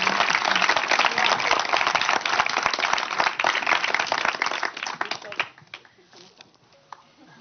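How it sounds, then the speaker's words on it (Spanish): Audience applause for two interview guests at a character design talk, dense and steady clapping for about five seconds, then thinning out to a few scattered claps as it fades. "Pues un fuerte aplauso para Borja y para Juan."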